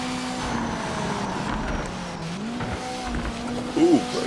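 Race car in the Project Motor Racing game running at full throttle, with a steady engine drone throughout and a brief tyre squeal near the end.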